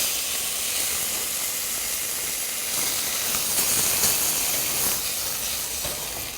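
Chicken breast browns in a hot pan with a dense, steady hiss and sizzle that swells slightly midway, close and unbroken, without any speech.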